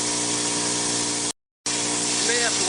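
Spray gun applying hot pipe coating, a continuous loud airy hiss with a brief cutoff midway before the spray resumes steadily.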